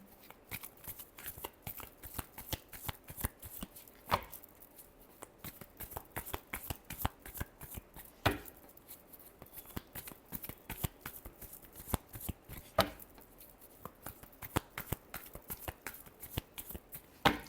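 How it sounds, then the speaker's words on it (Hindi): Tarot cards are shuffled steadily by hand in a quiet room, a long run of crisp riffling flicks and slaps with a few sharper snaps, close and fairly soft throughout with no talking. "Last shuffle."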